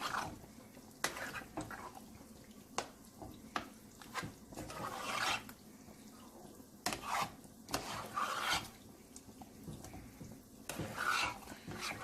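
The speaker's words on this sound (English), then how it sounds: "So right now I'm just going to mix it all up together." Meat and sauce for a cheesy lasagna being mixed together in a pot, with intermittent scraping, rubbing strokes of a spoon and wet squelching at a quiet, close level.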